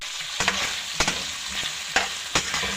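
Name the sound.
stirring beef caldereta with tomato sauce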